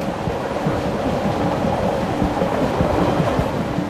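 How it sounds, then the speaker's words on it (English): Via Rail's Supercontinental passenger train number 4 cruises along the track through the Canadian Rockies toward Edmonton, Alberta, a steady, loud rolling rumble with rhythmic wheel clatter throughout. "Via Rail's Supercontinental Passenger Train number 4 is cruising toward Edmonton,"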